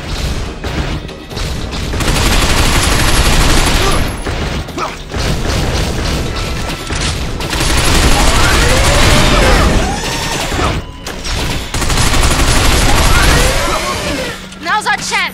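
Sustained gunfire in the Binary Domain shooter mixes with loud mechanical clanking, impacts and crashes throughout, dense and close, while voices speak over the battle noise.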